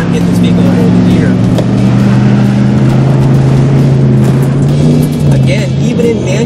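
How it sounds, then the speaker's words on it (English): A pickup truck's engine drones steadily in manual mode, its revs wavering and dipping as it fails to hold gear, heard loud and close with someone talking over it. "RPMs are just bouncing. It really needs to hold that gear."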